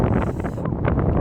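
Extreme wind on a Serengeti golf outing buffets the microphone with a loud, steady low rumble and roar that never lets up.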